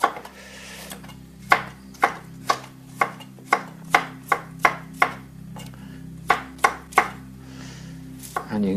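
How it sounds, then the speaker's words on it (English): A knife chops through broccoli stalk and florets on a board, about fourteen crisp, evenly paced cuts near and clear over a low steady background hum. "you can cut the florets any way you like"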